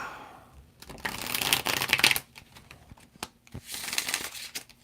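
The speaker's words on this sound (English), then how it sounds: "One good shuffle on the table." Tarot cards being shuffled on a table in quick riffling bursts, two close, crisp flurries of flicking paper separated by a brief pause.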